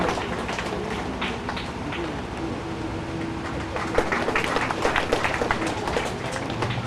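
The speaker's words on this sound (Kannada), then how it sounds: "ಎಲ್ಲ ಭಕ್ತಾಭಿಮಾನಿಗಳು ಕೂಡ ಚಪ್ಪಾಳೆಯೊಂದಿಗೆ ಸ್ವಾಮೀಜಿಯವರನ್ನು ಅಭಿನಂದಿಸುವುದು ನಮ್ಮ ಆದ್ಯ ಕರ್ತವ್ಯ" Temple devotees at a Mahalingeshwar temple celebration in Kallianpura applaud the Swamiji, a dense, distant patter of clapping that swells slightly toward the end.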